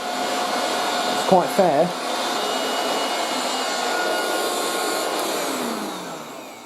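A 1980s Moulinex Aspirateur No1 handheld vacuum cleaner runs with a steady, close motor whine throughout, briefly broken by a few short voiced sounds near the start before the drone tails off slightly at the end.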